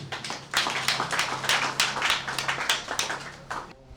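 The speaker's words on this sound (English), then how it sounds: "I want you to clap for him again." A small audience at an office inauguration event claps for a presenter, sparse, uneven hand claps close by that taper off near the end.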